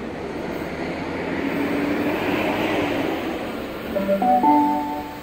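Train at Parramatta station platform, with a steady low rumble that swells through the middle, then rising tonal whines like traction motors or brakes as it moves, heard fairly close with no talk.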